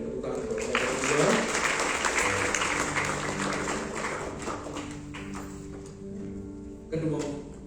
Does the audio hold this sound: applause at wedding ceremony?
yes